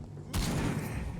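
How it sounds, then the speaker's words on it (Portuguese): A sudden loud burst of gunfire in the video game Vampyr, a couple of rapid shots with sustained noisy crackle and rumble trailing off. "Oh, dois? Dois tiros,"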